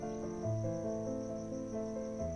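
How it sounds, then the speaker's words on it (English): Steady chorus of crickets chirping at night beside a lake, a continuous high trill layered over soft sustained tones, moderately faint and without any talking. "You hear the song of the crickets and the frogs."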